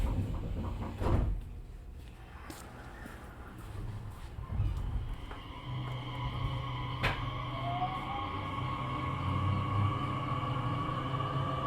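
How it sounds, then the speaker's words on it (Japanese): Doors of a Nishitetsu 3000 series train slide shut with a thump and clatter, followed by the hum of the car and a sharp click, with an abnormal noise present during running. "扉が閉まります。"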